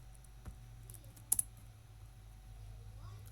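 A few key taps on a computer keyboard while Python Turtle code is typed, with a quick louder double click in the middle over a low steady hum; quiet and close.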